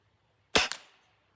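A Beeman 1022 .22 calibre air rifle fires a single sharp shot through a chronograph, one loud crack with a quick secondary snap and a short decaying tail, standing alone against near silence.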